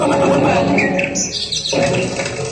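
During a Marathi comedy folk play, a person imitates a sparrow with a few quick, high chirping sounds, close and fairly loud, among other vocal sounds.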